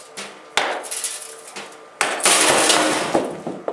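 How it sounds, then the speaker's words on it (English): A large hammer strikes hard in a physics demonstration of inertia: two loud, sharp metallic blows about one and a half seconds apart, each followed by ringing and clatter, with smaller knocks between. "He's going to act with a larger hammer now."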